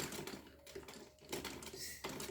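A sewing machine runs box stitching along a folded collar neckline, giving a quiet, rapid mechanical clatter in short bursts with brief pauses.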